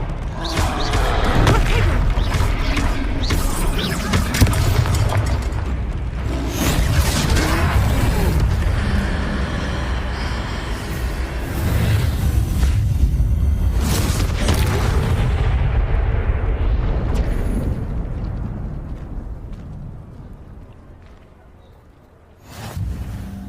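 A spell effect from the game Hogwarts Legacy, cast during a troll fight: loud, sustained booming, crashing blasts and rumbling fill most of the stretch, easing off near the end before a final short burst.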